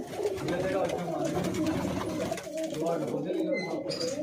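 Pigeons coo in a loft holding older birds and flying pigeons, a continuous soft throaty murmur from several birds close by, with other faint bird sounds in the background.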